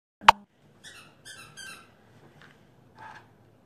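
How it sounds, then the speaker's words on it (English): A dog squeaks her rubber squeaky toys nearby indoors: one sharp loud squeak, then a quick series of softer, wheezy squeaks in bursts. "that's my dog squeaking her toys over there"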